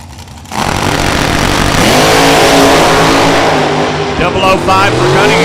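A blown top dragster with a supercharger roars down the drag strip at a dragway, a loud sustained engine blast that rises in pitch and holds at full volume, with a commentator talking over it.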